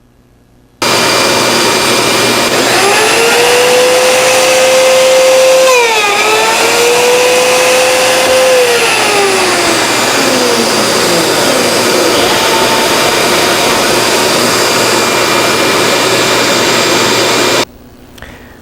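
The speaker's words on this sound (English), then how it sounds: "We also have a dust collection system which removes the shavings as the cutting" Shutter-making cutting machine running with its dust collection system drawing away shavings: a loud, steady whine and roar with a pitch sweep as the cut proceeds, then abrupt stop near the end.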